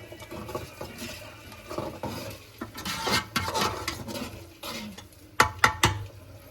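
Fish sambar bubbling in a pot on the stove, with soft patter of boiling and sharp clinks and scrapes of a spoon stirring against the pot, growing busier toward the end, no voices.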